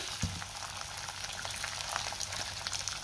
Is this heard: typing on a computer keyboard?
no